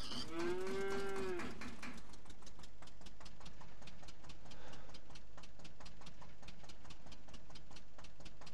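In a farming simulator game, a single cow moos loudly at the start, followed by a steady rhythmic mechanical ticking and a low engine-like hum that runs on to the end.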